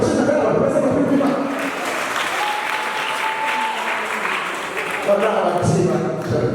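An audience claps loudly and steadily, the applause swelling and dipping while voices talk over it.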